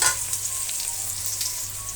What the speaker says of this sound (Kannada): ಬೆಂಡೆಕಾಯಿ ಚೆನ್ನಾಗಿ ಫ್ರೈ ಆಗಬೇಕಾಗುತ್ತೆ.